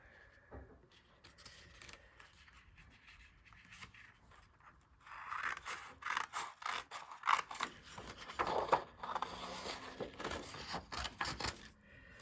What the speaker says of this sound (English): there's a butterfly in there too, so we're going to cut that out. Okay. Grab my scissors.